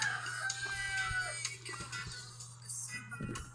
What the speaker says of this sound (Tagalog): Rhode Island Red at dalawang native chicken.